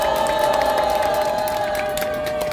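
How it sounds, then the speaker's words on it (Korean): Outdoor political rally crowd in front of the War Memorial applauding police officers from the local station, a loud mix of clapping, cheering and shouts with a steady tonal hum running underneath. "용산경찰서 관계자 여러분들에게 박수 한번 부탁드리겠습니다"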